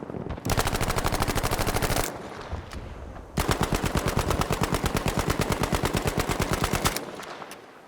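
Rapid automatic gunfire from Battlefield V weapons, two long sustained bursts of fast, loud, evenly spaced shots separated by a brief pause, with no talking.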